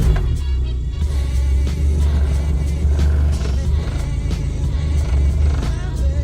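A repaired VW Polo petrol engine idles steadily with a low, even rumble that holds constant throughout, no revving or misfiring, close to the car.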